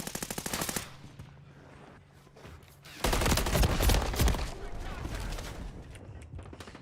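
Rapid machine-gun fire from enemies in a video game crackles in dense bursts, easing off midway, then returning louder and sustained.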